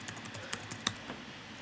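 Quick keystrokes clatter on a computer keyboard, a close, fairly quiet run of uneven taps with a couple of sharper clicks standing out.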